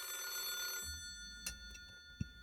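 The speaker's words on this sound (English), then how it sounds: "電話が鳴ってる？ こんな早い時間に海外からかな。" A video-game telephone bell rings with a bright metallic trill, then cuts off abruptly. A few soft clicks and a short thump follow in a quiet room, with no voices.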